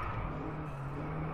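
Steady engine drone and tyre roar from a car in the PS4 racing game DriveClub, loud and unbroken for a brief stretch, without voices.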